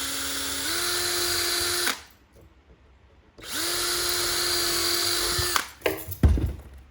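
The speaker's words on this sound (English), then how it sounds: "I'm also going to put a few holes in it" Power drill boring holes into antler, two sustained steady whines with a pause between, ending in a few shorter bursts and clatter.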